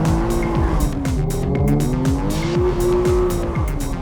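Sports car skidding out of a slippery junction with an open differential, tires squealing in a continuous wavering screech over a loud engine, close and sustained throughout.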